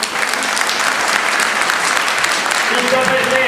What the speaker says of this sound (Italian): un grosso applauso e ancora grazie